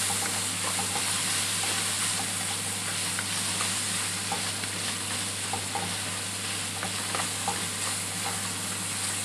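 Chili paste in soybean oil sizzles steadily in a hot wok, a continuous bright frying hiss with scattered pops and occasional scrapes of stirring.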